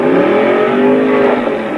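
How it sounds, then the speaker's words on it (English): Full-size enduro race cars roar around a slick oval speedway, several engines droning and revving loudly together as they slide through the turns, with a steady, dense wash of motor noise throughout. "A lot of cars slipping and sliding. That track is really slick now."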